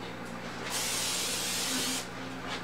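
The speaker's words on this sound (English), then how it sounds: "Notice how I didn't spray the scale with it." A single steady hiss of aerosol cooking spray greasing a double-walled pan, lasting just over a second, close by, over a faint background hum.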